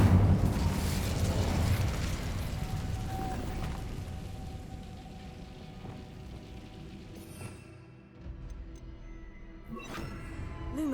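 A fire spell cast in Hogwarts Legacy bursts with a loud, roaring whoosh that tapers into a fading crackle, followed by quieter magical chimes and a soft tonal shimmer near the end.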